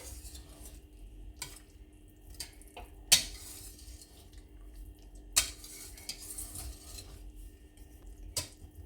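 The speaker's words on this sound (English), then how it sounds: "And stir it in." Creamy vegan spinach being stirred in a pan over very low heat, a spoon giving sparse soft clinks and scrapes against the pan with a few sharper knocks, close and quiet with no talk.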